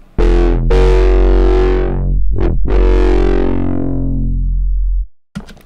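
A synthesized foghorn bass patch built in the Vital synth, with EQ and reverb, plays a few long, loud, distorted low drones that swell and cut out, then a brief tail at the end.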